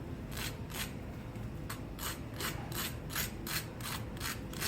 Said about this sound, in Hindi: आपको मैं इनकी आवाज़ भी सुनाती हूँ कि कितने क्रिस्पी बनते हैं।